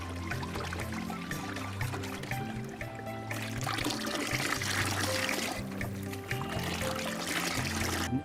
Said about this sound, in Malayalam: ഇത് ഒഴിക്കുന്ന സമയത്ത് നല്ലോണം ഇളക്കുക